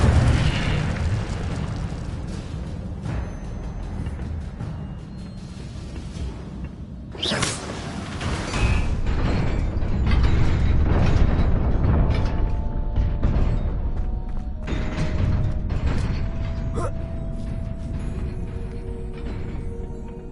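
A fiery spell bursts in Hogwarts Legacy with a sharp whoosh and boom, followed by a sustained roaring rumble of flames and crackling effects that swell and linger, with no talking.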